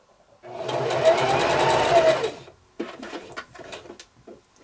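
A sewing machine runs in a steady whirring burst while stitching quilt fabric strips together for a beginner baby quilt, then pauses and gives a few shorter bursts with handling clicks.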